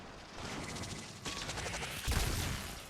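Turret gunfire in the video game Warframe, a dense rattle of rapid automatic shots that swells and grows louder near the end, with no talking.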